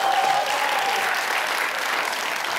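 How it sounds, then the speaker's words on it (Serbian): A studio audience on an evening talk show applauds Novak Djokovic with a dense, even burst of clapping that carries steadily throughout, close and full. "Dajte veliki aplauz za Noleta."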